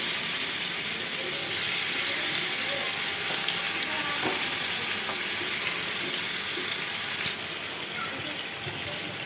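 Chicken frying in a pan for a restaurant-style chicken fry, giving a steady, loud broadband sizzle that holds throughout with faint clinks and stirring, no voices.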